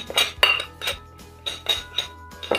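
Black pepper, garlic powder and onion powder stirred together in a bowl, a handful of bright clinks and scrapes of a utensil against the bowl, close and fairly loud, coming in separate spaced strokes.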